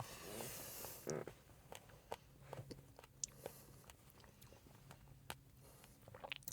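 Someone bites and chews fresh strawberries with crunchy seeds, close and quiet, a string of soft wet crunches and sharp little clicks at an uneven pace, with no talking.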